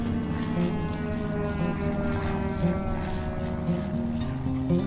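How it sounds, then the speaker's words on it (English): Propeller plane passing overhead in a shaded garden, a steady droning hum with a low thrum that holds throughout at moderate loudness. "These planes ever going to stop going over?"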